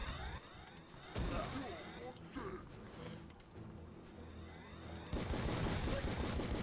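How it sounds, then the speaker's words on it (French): Enemy gunfire in the video game Outcast, bursts of shots crackling over music and game effects, with a heavier volley toward the end. "Il y en a un qui me tire dessus de loin là ou quoi?"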